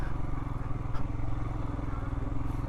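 Engine drone of a scooter carrying three people on a winding mountain road near Palampur, Himachal Pradesh, heard as a close, steady, throbbing hum.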